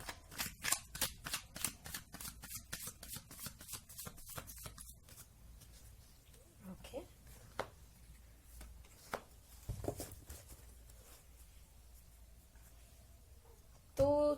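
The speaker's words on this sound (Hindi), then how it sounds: "कार्ड शफल कर लेते हैं" Shuffling an Osho Zen oracle card deck up close, a quick run of rhythmic riffling flicks for the first few seconds, then quieter sliding and occasional soft taps of cards.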